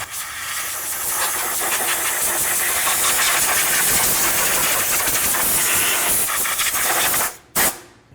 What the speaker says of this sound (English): I'll blow off any debris that's on top of the engine